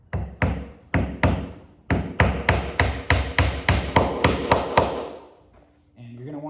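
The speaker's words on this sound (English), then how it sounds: "just hammer it flat, let it be" Nails being hammered flat into a wooden canvas stretcher frame: about a dozen loud, close hammer strikes, spaced at first and then in a quick steady run, followed by a brief pause and a voice.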